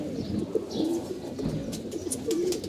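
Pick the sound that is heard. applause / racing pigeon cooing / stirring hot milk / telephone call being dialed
racing pigeon cooing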